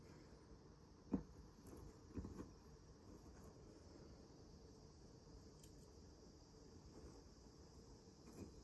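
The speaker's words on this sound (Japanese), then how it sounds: "セミがめっちゃ鳴いてる。" Cicadas drone outside near a house entrance in summer, a faint, continuous high-pitched buzz in the distance, broken by a couple of soft knocks nearby.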